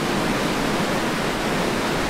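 Ritchie Falls at the headwaters of the Burnt River near Haliburton, in a snowstorm, gives a steady, dense roar of rushing water with no voices.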